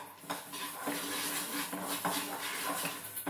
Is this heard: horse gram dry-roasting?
yes